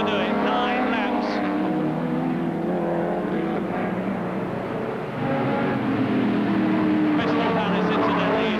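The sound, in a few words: saloon cars racing at Crystal Palace circuit, 1971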